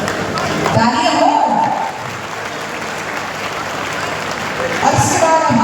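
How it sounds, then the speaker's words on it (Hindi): Audience clapping at a talent felicitation ceremony, a loud dense burst that eases to a lighter patter and then swells again near the end. "तालियां हो।"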